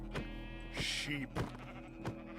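Sheep in the Minecraft video game bleat several times in short, nasal calls spaced across a couple of seconds, heard fairly quietly over a soft steady background.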